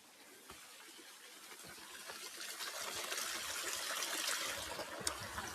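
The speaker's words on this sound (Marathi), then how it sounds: "इथे एक छोटासा वॉटरफॉल तयार होतोय" A small waterfall trickling and splashing near ancient Buddhist rock-cut caves in Karjat during low flow, a faint, steady watery rush that swells slightly louder over time.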